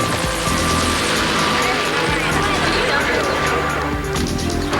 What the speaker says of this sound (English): The chopper's coming in and it looks like they're landing.